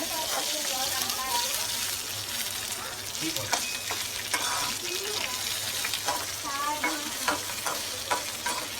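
Chillies frying in about two spoons of oil in a pan, a steady close sizzle with scraping stir strokes repeating throughout, faint voices underneath.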